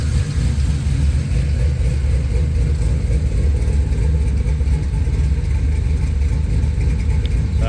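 A car engine idles with a choppy, lumpy idle from a possible tuning error, a loud, steady low rumble with an uneven pulsing throb and no talking.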